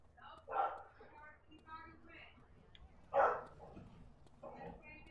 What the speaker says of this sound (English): Oh my god, this dog. I'm so sorry about the dog.